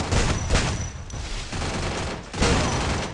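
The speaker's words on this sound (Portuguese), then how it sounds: "Tô levando o tiro." Gunfire in the Free Fire video game during a championship match, dense bursts of rapid shots and booms filling the whole stretch, loud and close.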